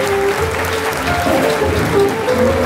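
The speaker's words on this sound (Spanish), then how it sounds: "Un fuerte aplauso para él." Dense, continuous applause from the public at the San Roque neighbourhood fiesta in Novelda, as the 2016 queens are presented, a thick steady wash of clapping with no pauses.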